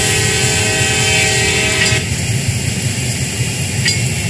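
A train in Train Simulator World rumbles steadily with a dense low engine drone and metallic rail noise, loud and continuous, with a faint high whine fading partway through.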